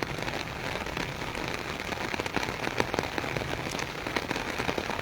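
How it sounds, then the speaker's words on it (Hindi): Heavy monsoon rain pours down in the town of Taunsa Sharif, a dense, steady hiss of drops beating on surfaces with sharper spatters throughout and no voices over it. "काफ़ी दिन बाद तौसा शहर बारिश आ गई है।"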